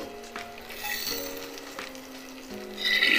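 Boiled mutton sizzles and fries in hot masala while being stirred in a pan, with a steady crackle, a few metal scrapes and clinks, and the sizzle swelling louder near the end.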